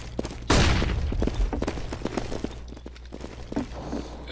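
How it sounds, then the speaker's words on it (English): A flashbang grenade goes off in CS:GO with a loud, close burst followed by a lingering rumble, then scattered footsteps and faint in-game gunfire. "I'm throwing a flashbang"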